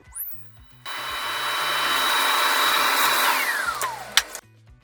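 A vacuum pulling a string through a pipe gives a loud, steady high suction whistle for a few seconds, then its pitch slides downward before cutting off, with faint knocks around it.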